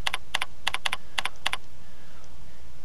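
Computer keyboard keys are pressed for a Ctrl plus A shortcut in music notation software, giving six or seven crisp, close clicks in an uneven rhythm over about a second and a half, followed by quiet.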